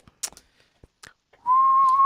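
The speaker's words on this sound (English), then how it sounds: "Speaking of whistling" After a few soft clicks and taps, a single clear sustained whistle note starts up and holds steadily, close and fairly loud.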